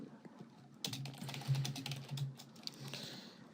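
Keys on a computer keyboard clatter in a quick burst of close, soft taps after a brief quiet start, continuing irregularly in small clusters.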